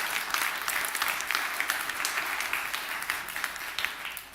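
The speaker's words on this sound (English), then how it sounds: "one more round of applause for 125 years for the Native Daughters." Steady applause from the audience at a city council meeting, a dense, continuous wash of clapping held at even loudness throughout, honoring the Native Daughters' 125 years.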